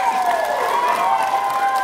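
An audience at a library magic show claps and cheers for a young helper, a loud, steady wash of applause with bright whistling tones riding over it.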